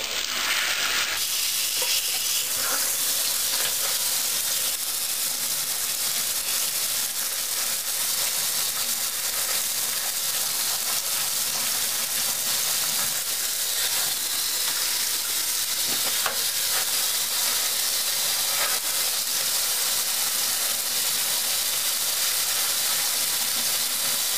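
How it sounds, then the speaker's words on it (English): A hot water sprayer blasts over betta fish tank parts, a loud continuous hissing spray that runs without pause from start to finish. "We'll spray some hot water on it and just wash it all."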